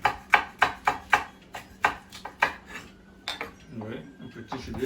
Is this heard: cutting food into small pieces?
yes